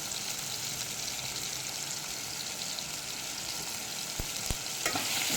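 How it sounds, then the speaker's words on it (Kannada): Brinjal frying in a pan with tomato, coriander and salt gives a steady, close sizzle that runs evenly throughout, with a couple of brief sharp clicks near the end and no talking. "ಬದನೇಕಾಯಿ ಹಾಕಿ ಫ್ರೈ ಮಾಡ್ಕೊಳ್ತಿದ್ದೀನಿ"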